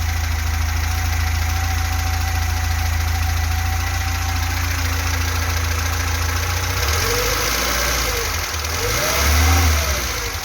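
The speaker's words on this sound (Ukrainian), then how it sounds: "Це я так вирішив похвастатися, як працює двигун." A car engine idles steadily with a low, even rumble, then revs up briefly twice near the end, close and loud.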